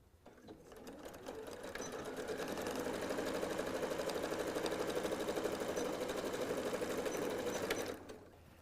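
A sewing machine runs steadily for about eight seconds, stitching the seam of a reversible sun hat, with a close, even motor whir and rapid needle chatter that starts and stops cleanly.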